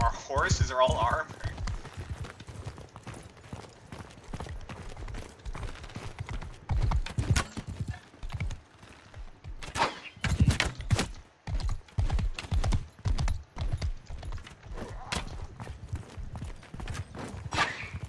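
Armed horses in the Mount & Blade II: Bannerlord video game gallop with a rapid, continuous clatter of hooves, heard under almost constant talking from players.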